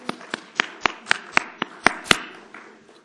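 A man clapping his hands at a talk, about nine sharp, close claps in a steady rhythm that loosens slightly toward the end, with a faint trailing tap.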